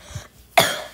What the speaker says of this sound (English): Don't mind me coughing, I'm sick again.